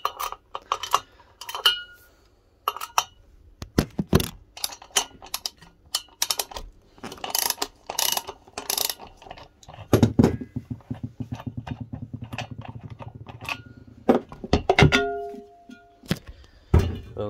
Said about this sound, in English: so if you bear with me just a sec, I'm gonna take this rotor off.